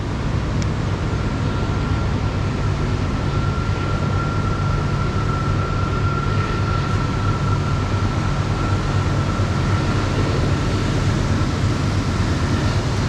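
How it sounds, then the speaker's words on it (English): Steady, loud rumble of a train rolling past a riverside parking lot by the tracks, continuous and unbroken with a faint tonal whine riding on top, no voices. "When the trains come by here several times a day, they make a racket."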